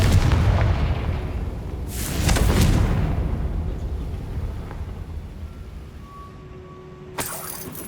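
A Confringo fire-blasting spell in Hogwarts Legacy sets off two heavy booming explosions early on, a lingering rumbling decay, and a sharp final burst near the end, with no talking.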